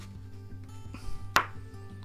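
A single sharp knife stroke cuts through a local onion on a board, one crisp chop standing out against a steady low background hum.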